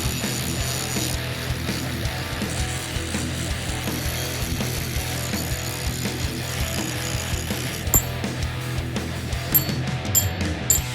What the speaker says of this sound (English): But I think it's time to grind.